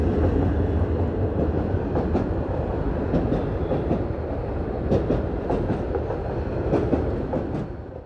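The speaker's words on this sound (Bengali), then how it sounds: "চলেন এই সুযোগে ট্রেনটা একটু দেখে নেওয়া যাক।" A train rolls past near a roadside in Rangunia, Bangladesh, its steady loud rumble and rhythmic clickety-clack of wheels over rail joints filling the whole stretch before easing slightly at the end.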